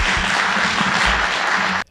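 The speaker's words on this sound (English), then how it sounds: "Let's give a hand of applause to Larry." Audience applause at a pavement preservation conference on Jekyll Island, Georgia, a steady burst of clapping that cuts off abruptly at the end.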